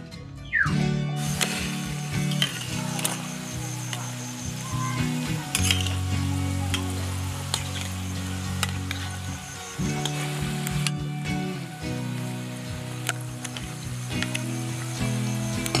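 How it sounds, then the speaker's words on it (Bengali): Cabbage-filled singaras fry in gently heated oil, giving a loud, continuous crackling sizzle throughout. Occasional utensil clinks come from the stirring. "হালকা গরম তেলে সিঙ্গাড়াগুলো ভেজে নিলে তাহলে ভেতর পর্যন্ত ভাজা হয়ে যাবে"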